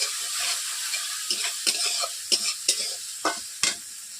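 Spice paste fries in oil in a pan with a steady bright sizzle, while a spatula scrapes and stirs in irregular close strokes and no voice is heard.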